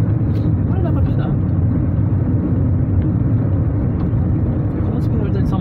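Chevrolet Celta driving along a road, a steady loud low engine and road rumble droning throughout without a break.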